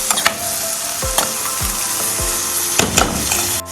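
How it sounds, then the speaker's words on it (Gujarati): Cabbage, capsicum and chili sauté in a hot pan with a steady close sizzle, broken by a few sharp clinks and scraping thumps as a spoon stirs the vegetables. "પછી કોબી અને કેપ્સિકમ એડ કરી લેવાના છે અને આ રીતે સાતળવાના છે"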